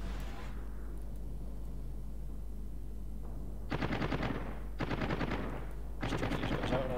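Fighter planes strafe in World of Warships, firing three loud rapid bursts of machine-gun fire in the second half after a quieter stretch of battle ambience, with no talking.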